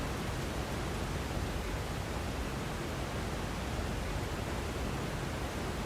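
Waterfall-like rushing water in Elden Ring, a steady, full hiss of noise that holds evenly throughout with no breaks and no talking.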